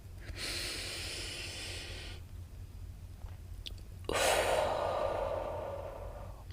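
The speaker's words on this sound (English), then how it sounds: "Let's do one more deep breath." Two long, deep breaths taken during a calming exercise: a steady inhale of about two seconds, a pause, then a louder, heavier exhale, both close to the microphone with no talking.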